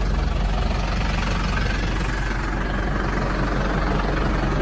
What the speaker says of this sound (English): Tractor in neutral, safety brake on, hop out.